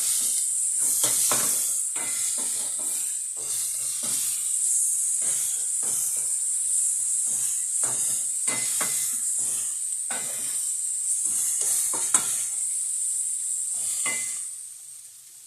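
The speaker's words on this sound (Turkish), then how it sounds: "Güzelce karıştıralım bunu" Tomato paste stirred into a hot pan, a bright continuous sizzle and hiss under rhythmic scraping strokes of a spoon, close up, fading slightly at the end.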